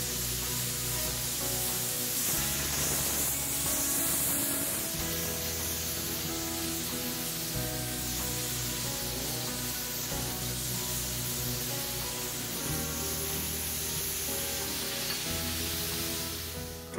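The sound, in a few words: torch gouging out a metal weld bevel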